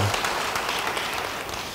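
A church congregation applauds during a sermon, producing a brief, full burst of clapping from many hands that stays broad and steady from start to finish.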